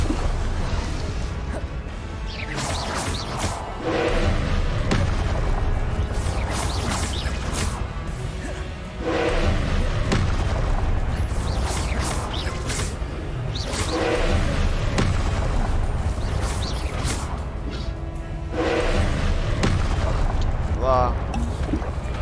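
Blasting-spell explosions from the video game Hogwarts Legacy, booming repeatedly in dense bursts over a steady battle din, with someone talking over the action.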